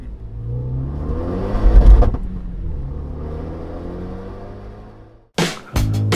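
A Renault Mégane Renault Sport Trophy 275 hatchback on the road, its engine droning loudly and swelling as it accelerates, then easing off, with sharp bumps or knocks near the end.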